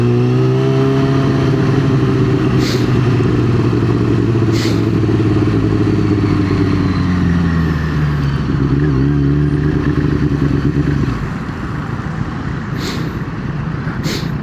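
A first-generation Yamaha R6 sport motorcycle engine runs loud and steady while riding, with a continuous droning hum that shifts pitch as the throttle changes. No voices are heard.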